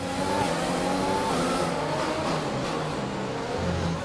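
Race car engine roaring steadily at speed in F1 2020, a Jordan team car braking and overtaking, with continuous loud revving and harmonic engine whine throughout, faint tire noise, no voices.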